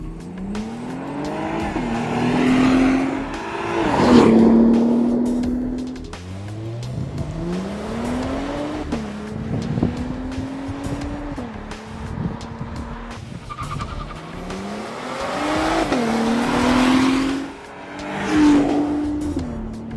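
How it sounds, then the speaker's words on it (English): A 2014 Cadillac CTS-V Sport braking and accelerating hard, engine revs climbing and dropping repeatedly with gear changes, punctuated by surges of loud acceleration, close and prominent with no talk. "Next up, braking and acceleration"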